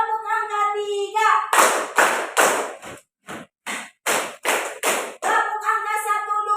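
Schoolchildren in an Indonesian language class clap together in a counted rhythmic pattern, a run of sharp, loud group claps in a steady beat framed by chanting voices before and after.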